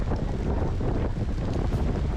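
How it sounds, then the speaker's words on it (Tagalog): Inside a small boat crossing the sea, waves slosh and rain patters in a steady, loud wash mixed with wind buffeting, no voices. "tanging alon at ulan lamang ang naririnig na ingay"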